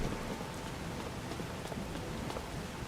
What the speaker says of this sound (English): It got dark, it started raining